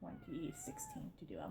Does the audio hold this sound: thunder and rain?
no